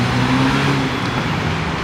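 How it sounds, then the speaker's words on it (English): Steady road traffic on one of downtown Ottawa's main routes, a loud continuous rumble of car engines and tyres passing nearby without pause. "This is part of one of Ottawa's main traffic routes through the downtown."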